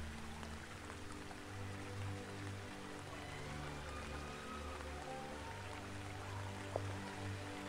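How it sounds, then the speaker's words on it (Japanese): Steady rain falls in the horror adventure game Raison d'etre, a constant wash of drops over a low droning background, fairly quiet and continuous with one brief sharp tap near the end and no talk. "まだ雨降りよるよ。"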